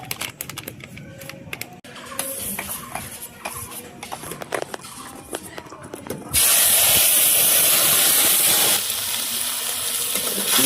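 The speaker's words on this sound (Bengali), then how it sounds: "তেলে দিয়েছি জিরের গুঁড়ো দিচ্ছি এখন" Spice powder hits hot oil while a Bengali fish curry is cooked with coriander, chili, ginger, onion and garlic paste; scattered light clatter gives way to a sudden loud, steady hissing sizzle up close, with faint voices underneath.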